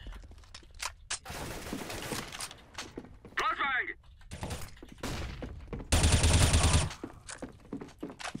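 Gunfire in Counter-Strike: Global Offensive, with loud bursts of rapid shots and several sharp single cracks among footsteps and game effects, while a player talks throughout.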